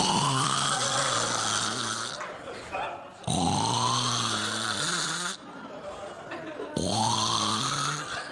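A comedian on stage at a comedy club voices loud imitation snoring, with long rasping snorts and breathy gasps repeated three times, close to the microphone.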